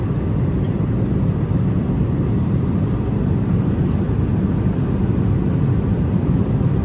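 Steady, loud low rumble of an airplane cabin in cruising flight from India to Canada, a constant broadband engine and air roar with no voices.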